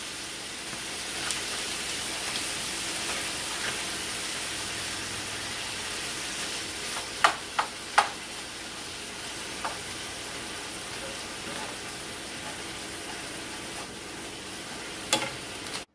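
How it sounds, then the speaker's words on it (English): Beef stew meat sears in ground beef grease for crockpot chili, a soft continuous sizzle with occasional sharp utensil clicks, moderately quiet and steady. "The ground beef is done, and I seared the beef stew meat"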